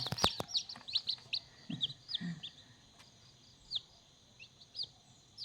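Newly hatched, day-old baby chicks chirp in quick, high peeps that repeat in short bursts, fairly quiet and close, with a couple of soft low thumps and no talking.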